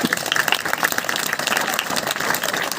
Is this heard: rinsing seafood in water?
no